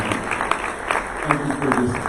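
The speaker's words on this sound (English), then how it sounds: "If you'll give them all a round of applause for their generous sponsorship" A luncheon audience applauds the event's sponsors: a steady wash of clapping at moderate loudness, running briefly and evenly.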